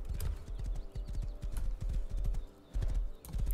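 Horse hooves clip-clop steadily in the Rust survival game, a rapid, close rhythmic patter that runs almost continuously with only a brief pause, with occasional faint whinny-like sounds.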